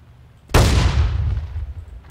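A blunderbuss fires in a multiplayer video game with one sudden loud boom that rolls into a long rumbling decay lasting over a second, heard alone.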